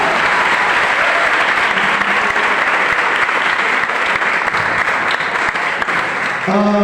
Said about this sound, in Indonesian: Mari kita berikan tepuk tangan sambil kita sambut